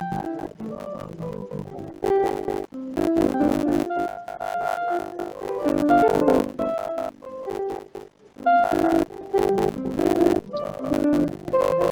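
Computer-generated melody played back from an algorithmic composition model, a two-octave line of clear synthesized pitched notes moving in a steady stepwise rhythm, continuous and fairly loud with no voices.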